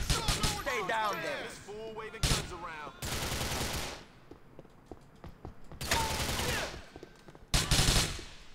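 Rapid bursts of gunfire from Grand Theft Auto IV come in several loud, clustered volleys separated by quieter stretches, with a voice talking over the opening.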